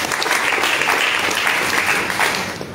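A church congregation at a prophetic service breaks into loud, dense applause, the clapping sustained and close for a few seconds with faint voices mixed in.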